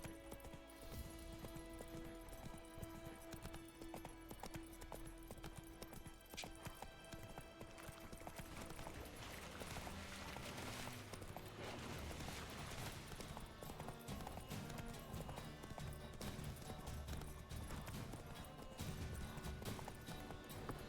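Roach the horse's hooves clip-clop steadily along in the video game The Witcher 3, a continuous rhythmic trotting beat under a dense ambient bed.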